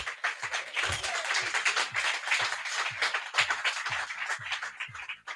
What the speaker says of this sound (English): So let's give Greg a round of applause.